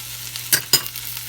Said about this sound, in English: And give it a good stir so that it's not burning at the bottom